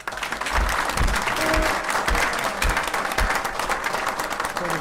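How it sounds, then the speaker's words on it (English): A crowd claps steadily at a school board meeting, honoring coaches and athletes, with dense, sustained applause from start to finish and no one talking over it. "see if we can give them a round of applause."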